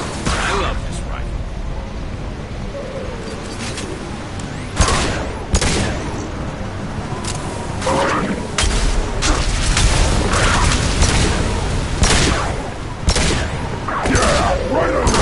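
Rifle fire in the Mass Effect 2 video game, bursts of shots and heavy thuds scattered through a busy combat mix, with a voice talking over much of the action.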